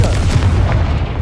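The Confringo explosive spell from Hogwarts Legacy goes off in a single loud, deep blast with a rumbling tail, close and heavy, lasting about a second.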